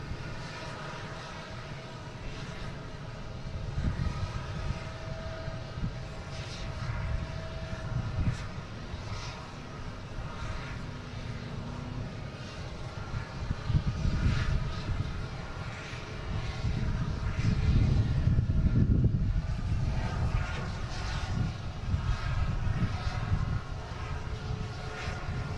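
A WestJet airliner takes off at Boston Logan airport, its engine roar swelling steadily from a distant rumble to a heavier, louder drone over the stretch, with no voices over it.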